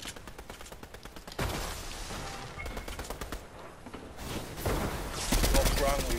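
Rapid bursts of gunfire from a Fortnite match rattle in quick repeated volleys, loud and close, with heavier blasts toward the end and a voice talking over parts of the action.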